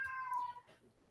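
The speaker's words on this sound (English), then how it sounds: "That's my cat." House cat giving one short, clear meow, close and fairly quiet, fading quickly.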